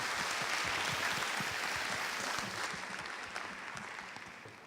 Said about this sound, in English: Can we have a round of applause for them too, please?